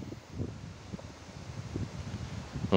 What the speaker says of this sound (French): Excusez-moi pour le vent, je suis vraiment navré,